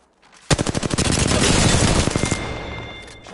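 Automatic gunfire from an R-301 rifle in the video game Apex Legends: a loud, rapid burst of evenly spaced shots fired in quick succession for about two seconds, then a fading ringing tail, with no talking.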